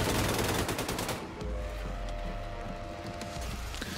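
Machine gun turret fire in Wolfenstein II: The New Colossus, a dense rapid burst of shots for just over a second, then the rattle thins into scattered distant pops over a low rumble.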